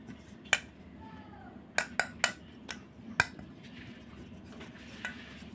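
A bowl is handled while being coated with flour for a sponge palm cake, with several sharp clinks and taps of the bowl against a hard surface, spaced irregularly over a quiet background.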